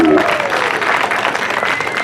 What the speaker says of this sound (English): How about one more big round of applause for this mountain bike team